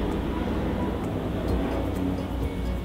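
Steady, loud broadband rumble of an aircraft, likely a helicopter passing overhead, holding constant throughout with no voices.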